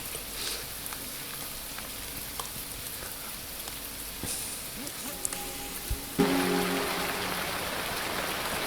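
Rain falls in the Zombie Rampage video game as a steady soft hiss with scattered clicks and a brief tonal chime, swelling louder for the final stretch.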